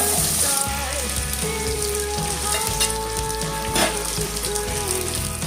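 Small onions sizzle and crackle in hot oil with whole garam masala and bay leaves for mango chicken, a dense, close frying hiss running steadily with light stirring scrapes.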